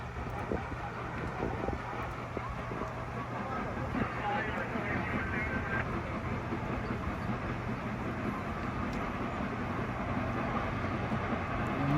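Steam locomotive 4014 pulling away from Pittston, a steady rumbling roar of the train with clattering wheels and wind buffeting the microphone, loud and continuous, with voices talking over it.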